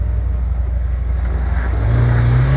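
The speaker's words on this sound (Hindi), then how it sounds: "काफ़ी थ्रॉटल देने के बाद भी स्टॉक थार इसमें से नहीं निकल पा रही" Stock Mahindra Thar engine revving hard while climbing an off-road obstacle, a loud continuous roar with a rising whine as throttle builds toward the end, heard up close without speech.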